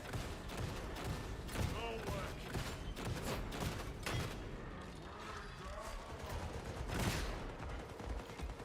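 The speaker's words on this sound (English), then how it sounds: "Get him with the shotgun." Shotgun blasts ring out in the video game Damnation amid a dense, steady wash of combat noise and repeated booms, with a voice talking over the action.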